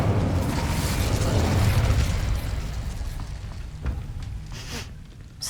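Incendio fire spell cast in the game Hogwarts Legacy, a loud roaring, crackling burst that swells and then slowly fades, with a few faint pops near the end and no talk.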